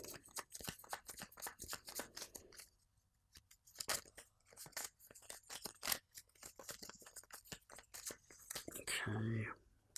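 Playing cards from a Mandalorian Adventures board game being shuffled: quiet, rapid papery clicks and riffles close up, in short bursts with pauses, and a brief voice sounding at the very end.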